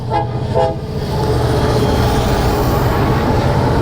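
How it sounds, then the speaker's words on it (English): A Union Pacific freight train led by five locomotives rolls past, with a loud steady rumble and roar throughout and a brief horn-like tone near the start, no talk. "Look at that, 5 locomotives."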